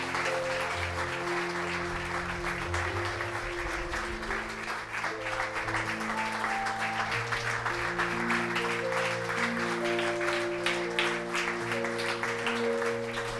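A church congregation applauds during a Sunday service, sustained steady clapping across the whole span, with music playing underneath and occasional voices.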